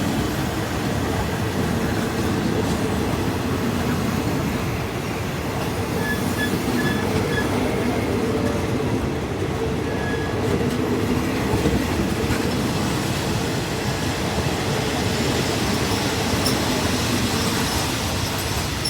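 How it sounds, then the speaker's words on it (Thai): A Thai express train, number 167, hauled by a locomotive, rolls along rails at Ban Pong station, with a loud continuous rumble, rhythmic wheel clatter and occasional faint squeals. "ขบวนรถที่จอดเทียบชานชาลาที่หนึ่งขณะนี้เป็น"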